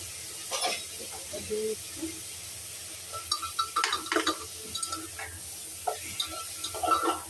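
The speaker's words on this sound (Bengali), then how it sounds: "নাড়াচাড়া করছি" Rice, lentils and mixed vegetables are stirred into browned onions in a frying pan, giving a soft sizzle broken by scraping stir strokes and light clinks, with occasional speech nearby.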